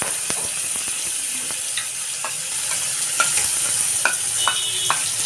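Cumin powder hits hot oil for mustard hilsa, giving a steady bright sizzle with sharp stirring clicks and scrapes of a spatula against the pan, close up and without talk.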